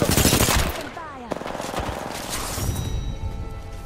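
Rapid automatic gunfire in the shooter game Apex Legends, loud and close, with dense bursts of shots followed by game sound effects and an in-game voice.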